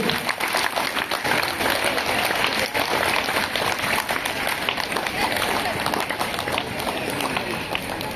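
Sustained crowd clapping at a school Republic Day event, dense and continuous for about eight seconds, fairly loud and even throughout.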